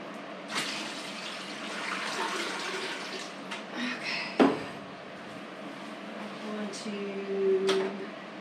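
Tap water running in a home kitchen, drawn to heat for a red cabbage paper-dye bath: a faint, steady flow broken by a few soft clunks and knocks.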